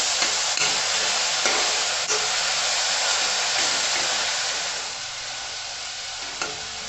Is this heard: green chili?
yes